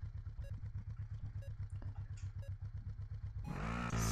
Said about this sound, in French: celui-là, il a un beau bruit de niveau moteur